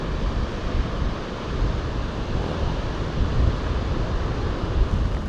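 Ocean surf breaks below a cliff at Fort Funston in San Francisco, a steady, loud roar of washing waves mixed with gusting wind noise and no voices.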